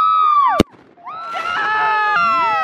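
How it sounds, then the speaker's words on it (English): Fireworks lit on a lake go off with one sharp close bang, followed by a rising whistle and crackling burst, and people's voices and shouts sit in the background. "We're actually lighting fireworks on the lake."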